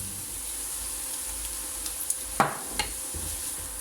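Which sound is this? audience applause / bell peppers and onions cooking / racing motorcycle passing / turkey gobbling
bell peppers and onions cooking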